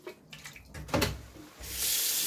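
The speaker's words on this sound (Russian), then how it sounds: "Я сливаю эту воду" Rinse water is poured out of a pot of fish bones into a kitchen sink, a few clanks and splashes giving way to a steady rushing pour close by.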